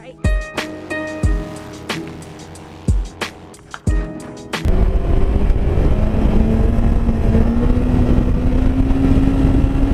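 Honda CB1100 motorcycle: a few sharp knocks and bumps, then the engine roars into a loud, sustained rev that climbs in pitch as the bike lifts into a wheelie.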